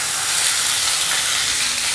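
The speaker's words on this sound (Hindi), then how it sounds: "ये हम गरम तेल में डाल देंगे।" Boneless chicken cubes, about 200 grams, sizzle loudly and steadily in hot oil as a continuous bright frying hiss, close and alone with no talk.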